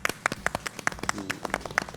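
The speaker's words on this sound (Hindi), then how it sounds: "कमलजीत सिंह जी के लिए एक बार जोरदार तालियां हो जाएगा" A small group at a live yoga session claps for a 65-year-old participant, making distinct, fairly regular hand claps at moderate volume, close by and unaccompanied by talk.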